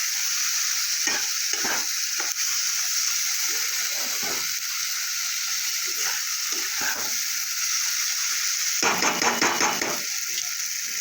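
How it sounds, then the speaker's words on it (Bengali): Spice paste with turmeric and Kashmiri chilli powder sizzling in hot oil in a pan, stirred steadily with scraping clatters of a spoon, for a fish tel jhal curry; a continuous hiss with a burst of rapid stirring near the end. "একটু কাশ্মীরি লঙ্কা গুঁড়ো, মশলাটা আমি ভালো করে সব কষিয়ে নেবো।"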